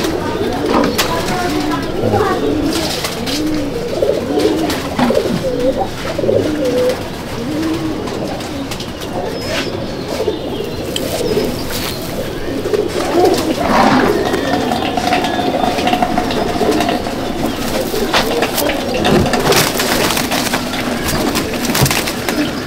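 Pigeons coo in a loft holding black-grained birds, a female among them, with wooden creaks, scraping and fluttering close by and people talking intermittently over the steady flock murmur.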